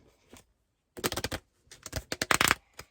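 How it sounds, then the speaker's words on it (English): Thick, stiff tarot cards riffle in two quick bursts of crisp, rattling flicks, close and clear, separated by a short pause and a few soft taps. "This is a way to shuffle thick, stiff cards"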